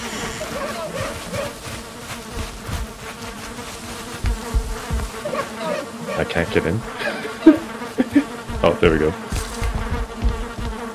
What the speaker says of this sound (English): I hear bees. There's a beehive.